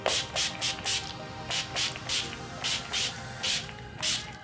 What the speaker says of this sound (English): I'm gonna go ahead and set this with my makeup setting spray